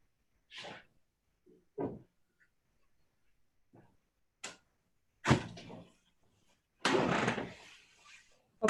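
A door is closed indoors with a handful of separate knocks and thuds, the last two heavier and longer as it shuts, with quiet gaps between and no voices.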